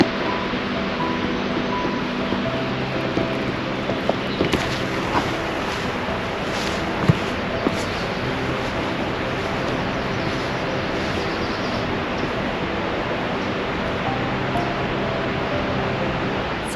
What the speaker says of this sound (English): the waterfall's getting louder as I'm walking down this path.